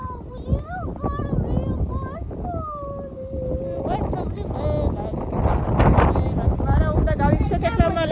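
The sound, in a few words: strong wind on a snowy day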